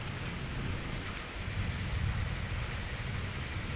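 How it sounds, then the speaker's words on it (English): Soft, steady rain with some lightning outdoors, a continuous gentle hiss with a low rumble underneath and no voices. "because it is raining outside."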